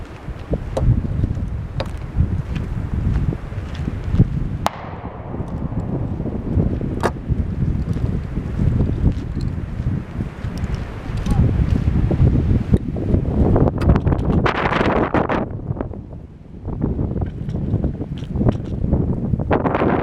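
Wind blows outdoors at a black-powder shooting session, rumbling and buffeting the microphone in loud, uneven gusts that rise and fall steadily throughout, with no voices.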